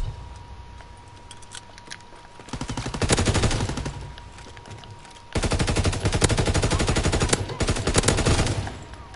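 MG15 machine gun in Call of Duty WW2 firing two long sustained bursts, loud and close, a fast rattling stream of shots with a short pause between them and no talk.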